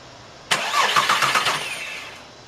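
A 2.5-litre VW Jetta engine cranks and fires after an injector replacement, a sudden starter whir with rapid rhythmic pulses for about a second before settling toward idle, close and loud with no talking.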